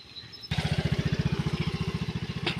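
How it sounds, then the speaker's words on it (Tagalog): At night in the rain, a nearby motorcycle roars in suddenly and passes close. Its engine makes a loud, rapid, pulsing putter that fades slightly toward the end. "maraming dumaan ding motor dito"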